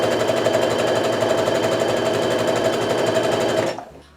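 A sewing machine stitches quilt fabric strips in a fast, steady mechanical whir that runs evenly for several seconds, close and loud, then stops abruptly.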